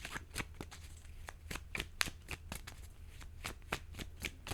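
Tarot cards being shuffled by hand, a close run of crisp riffling bursts repeating in an uneven rhythm with no voices over them.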